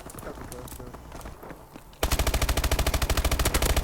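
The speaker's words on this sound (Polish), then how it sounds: "z pistoletu normalnie granatami wali" A pistol firing grenades in a modded video game, starting with scattered quieter game noise before a sudden loud burst of rapid, evenly spaced shots that continues to the end.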